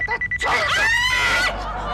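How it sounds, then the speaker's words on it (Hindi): A phone ringtone plays loud and close: a few quick electronic beeps, then a sweeping melodic tone that cuts off abruptly. "देव फोन उठाओ ना।"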